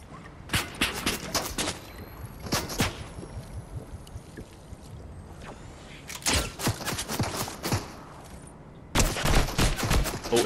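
Gunfire in the video game Fortnite, sharp bursts of shots in clusters near the start, around the middle and at the end, over a steady background of game ambience.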